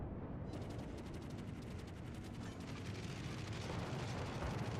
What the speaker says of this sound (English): I'm just going to open up on him with my guns